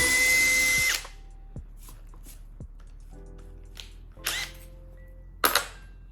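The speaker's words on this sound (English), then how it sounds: "Let the drill do its" A power drill whirs loudly for about a second while driving a long screw and stops, followed by scattered clicks, knocks and short bursts of drilling noise.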